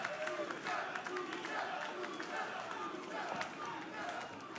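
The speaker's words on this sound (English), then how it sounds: "The downtown Charleston crowd showing their appreciation for these luchadors." A downtown Charleston crowd applauds and cheers luchadors at a Major League Wrestling show, a moderate, spread-out wash of clapping, with commentary talk over it.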